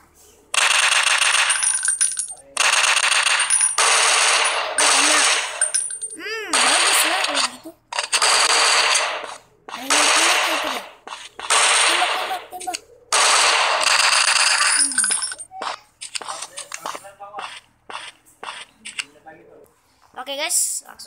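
Repeated pistol gunfire in the Counter Terrorist 2 video game, loud bursts of sharp shots in quick clusters with brief gaps over about twenty seconds, with game sounds around them.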